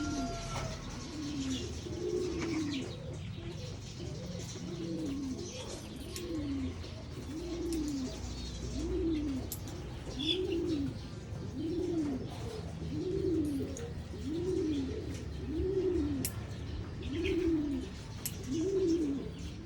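Pigeons in a loft coo in a repeating rolling pattern, each phrase a low throaty warble recurring roughly every second, close by, with faint chirps and a steady background hum.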